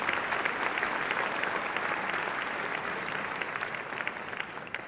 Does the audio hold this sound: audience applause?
yes